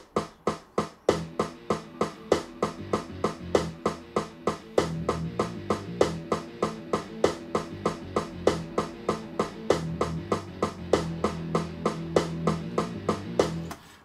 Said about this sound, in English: If we were to just listen to this with just the MIDI sounds,